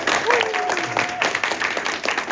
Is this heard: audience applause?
yes